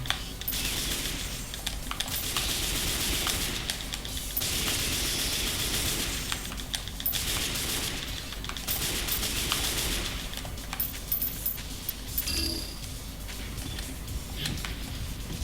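Rapid gunfire from shooting enemies in the Chaos Legion PC game, a dense, continuous crackle of shots in bursts over game sound effects, with no talking.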